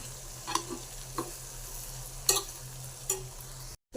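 Aloo fry (half a kilo of softened potatoes with chilli powder, turmeric and coriander powder) stirred in a pan, with a few distinct scrapes and clinks at irregular intervals over a steady low hum, no talk.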